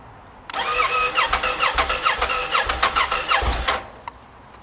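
An old motorcycle that may hold stale fuel cranks without catching, its starter churning in a fast, even pulsing run for about three and a half seconds. It is loud and close, and it stops abruptly with no engine firing.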